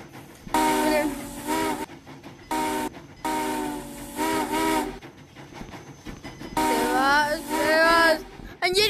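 A train's steam whistle in the VR game Rec Room blasts in four long, loud, wavering calls separated by short gaps, with faint voices underneath.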